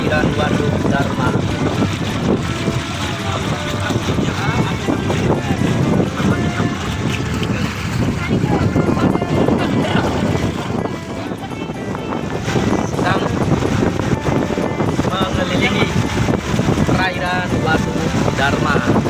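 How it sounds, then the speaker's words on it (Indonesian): A boat speeds across the wide waters of Darma Reservoir in Kuningan, West Java, the hull splitting the water with a steady rushing splash, mixed with engine drone and wind buffeting the microphone throughout. "terlihat ini kecepatan perahunya agak ditingkatkan, terasa dengan suara gemericik air yang terbelah"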